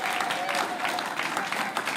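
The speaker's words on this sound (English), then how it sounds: "that round of applause was very, very timid. So can we just try again?" An audience gives a round of applause at a conference session, a continuous, moderately loud patter of many hands clapping with some voices mixed in.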